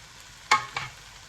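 Rice for prawn fried rice drops into a hot pan, giving two quick sizzling scrape bursts in close succession over a faint background.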